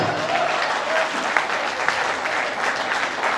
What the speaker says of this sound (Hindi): ताली बजाओ, सांस लेना है।